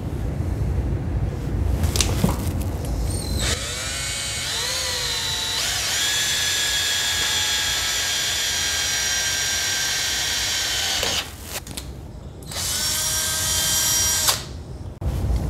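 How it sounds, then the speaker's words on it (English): A power wire brush scours old paint off a Jeep TJ frame, whining loud and steady for several seconds at a time with short pauses between passes. "What I'm going to do is use this wire brush to kind of clean up the area."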